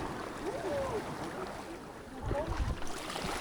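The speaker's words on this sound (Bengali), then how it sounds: "So we are inside the boat." A private motorboat heading out on the sea toward Paradise Beach near Gokarna, with a low engine rumble and water sloshing against the hull, faint and steady with a few louder splashes near the end.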